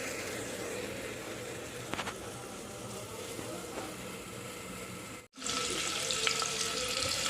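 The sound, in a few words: water running from a tap while washing onions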